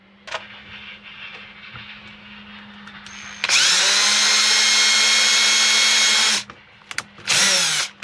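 A power drill whirs loudly in a long sustained burst drilling mounting holes on a boat, then a short second burst, over a low steady hum.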